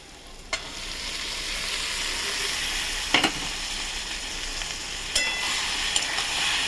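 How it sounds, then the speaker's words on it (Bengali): Peas go into a pan of frying spices for ghugni, a steady loud sizzle with several sharp clacks and scrapes as they are dropped in and stirred. "এবার আমি মটরটা দিয়ে দেবো।"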